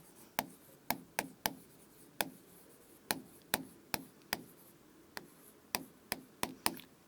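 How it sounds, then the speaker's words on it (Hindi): Chalk tapping and scratching on a classroom blackboard during a lesson, a series of short sharp clicks at irregular intervals, faint and close, with no talking. "मैं ब्लैक बोर्ड पर लिखती हूँ।"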